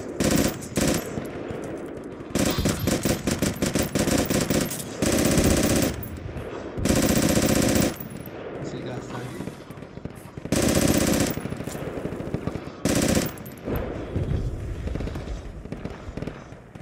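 MG34 machine gun fire in the video game Project Reality, loud rapid bursts of automatic shots broken by short pauses, close and dominating the scene.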